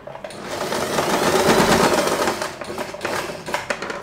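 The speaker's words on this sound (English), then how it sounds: "So I sew the first part." A sewing machine stitching fabric for a bow headband, a loud, steady run of fast mechanical needle clatter that swells and then settles into an uneven rhythm, heard up close without talk.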